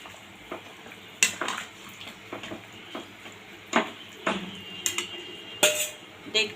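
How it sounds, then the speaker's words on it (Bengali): Pointed gourd pieces go into a pot of potato curry, with intermittent clinks and scrapes of a spoon against the pot over a low frying hiss, close and moderately loud. "এইবার আমি এখানে পটলটা দিয়ে দেবো।"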